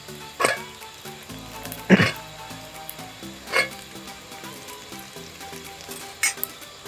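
Fried chicken pieces sizzling and frying in a pan while chicken bread kottu is cooked, a steady close crackle broken by a few louder stirring bursts and clatters.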